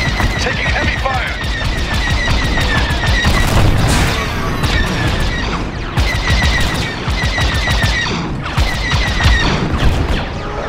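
Heavy weapons fire in Star Wars: Squadrons keeps up a loud, dense barrage, with rapid repeating blasts and booming impacts stacking on each other throughout amid constant combat noise.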